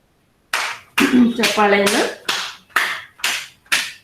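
Hands clap in a steady rhythm of about eight sharp claps, roughly two per second, during a yoga exercise session. A voice speaks briefly over the early claps.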